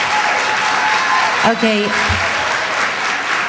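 Audience applause and cheering at a board of education meeting fill the room steadily throughout, with someone briefly speaking into a microphone over the crowd.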